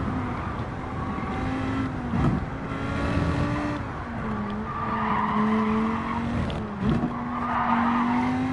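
Race car engine and tyres in Gran Turismo 7, a steady droning engine note rising and falling through gear changes, with tyre squeals and skids as the car brakes and corners, loud and continuous, no voices.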